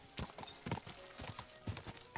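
Horse hooves clip-clop at a steady walking rhythm in the medieval video game Kingdom Come: Deliverance II, close and fairly quiet, with no speech over them.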